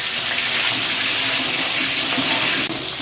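Tomato dropped into hot refined oil with bay leaves and cumin seeds gives a loud, dense, continuous sizzle with a bright hissing wash, steady for a few seconds before easing slightly at the end.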